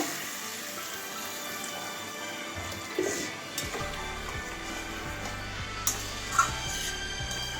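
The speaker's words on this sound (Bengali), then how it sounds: "এবারে পরিমাণ মতো জল ঢেলে দেবো" Water poured into a hot pan of cauliflower, potato and mushroom curry, a steady hiss and sizzle with a few splashy bumps near the close, and no talking.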